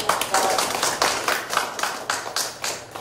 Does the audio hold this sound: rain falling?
no